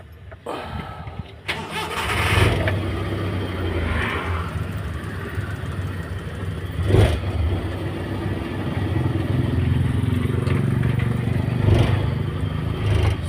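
The small F6A engine of a Suzuki Multicab truck cranks and catches, then settles into a steady close rumble that keeps running with slight revs.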